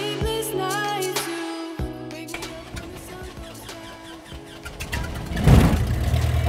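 Small aircraft engine cranking and catching, with a few uneven coughs before settling into a steady, loud idle close by.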